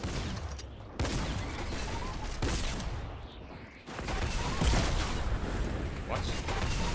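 Gunfire in a Fortnite match, dense bursts of shots and impacts running continuously over game sound for several seconds, fairly loud and busy throughout.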